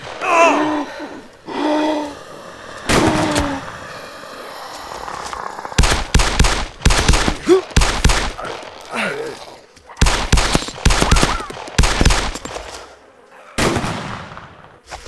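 Gunfire in the video game DayZ crackles in several sharp bursts and volleys, near and loud, interspersed with gasps and excited shouting from players.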